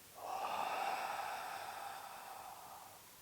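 A single long, deep breath drawn in slowly and steadily, close and alone in the quiet, swelling early and then easing over about three seconds during a calm, guided breathing exercise.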